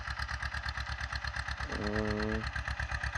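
A tractor engine idles steadily through the clip while onion seed is sown in a field, its low rhythmic thrum continuous and fairly close, with a voice speaking briefly over it midway.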